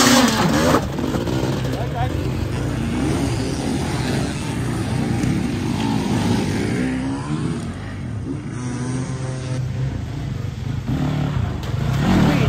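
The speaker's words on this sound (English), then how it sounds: "Weird sounding bike." A hard enduro motorcycle at a Gold Class race start revs and drones continuously and loudly throughout, with people talking over the engine noise.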